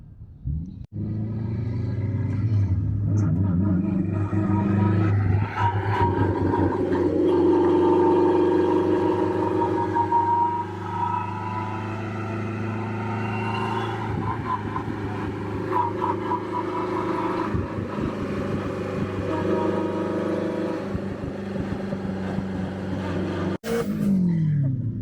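Lotus Elise with a K-series engine roaring past at full throttle, a loud, sustained engine note that holds steady for most of the run before cutting off abruptly near the end.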